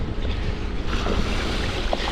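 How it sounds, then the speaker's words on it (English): A wind gust sweeps over dark, rippling lake water on Lake Winnipesaukee, a steady rushing blow mixed with wave wash and microphone buffeting. "Here comes a nice gust."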